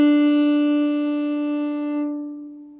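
A violin bow drawn lightly across a string with only its own weight, giving one steady, clean sustained note that fades gently over about three seconds, close and alone.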